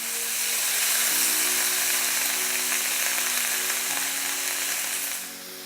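Redclaw crayfish frying in a pan with spices, a loud, dense, continuous sizzle that holds steady close by, with a low sustained hum underneath, then eases off at the very end.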